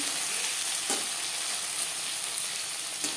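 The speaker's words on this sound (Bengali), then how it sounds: "এখানে দুটো টমেটো আমি টুকরো করে অ্যাড করলাম" Tomato pieces frying in a pan for a Bengali fish curry: an even, hissing sizzle throughout, with a couple of faint clinks from the pan.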